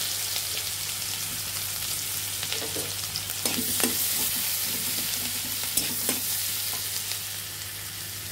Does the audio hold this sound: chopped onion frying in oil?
yes